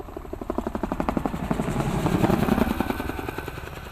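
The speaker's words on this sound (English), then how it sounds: "directed to board the helicopter" Steady helicopter rotor thumping, close and loud, with a rapid rhythmic chop over a low engine drone throughout.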